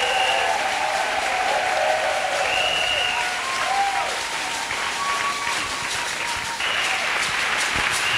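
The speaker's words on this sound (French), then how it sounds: "Let us clap for Jesus." A church congregation claps together in sustained, dense applause, even and continuous, with a crowd murmur and faint voices underneath.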